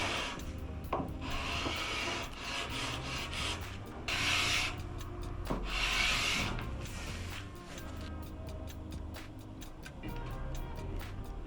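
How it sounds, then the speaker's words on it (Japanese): Steady rasping of sandpaper rubbed back and forth on wood, trimming protruding inlay on a 60-year-old Teisco BS-101 bass guitar body, close up, in repeated strokes with occasional light knocks. "飛び出ている部分を紙やすりで削った後、バインディングを接着していきます"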